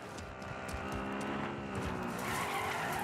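Video game car revving and skidding with squealing tires, loud and continuous, engine pitch sweeping up and down over a few seconds.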